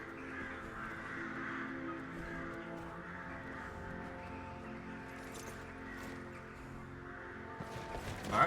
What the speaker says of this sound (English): A lot of noise from the birds at the very least.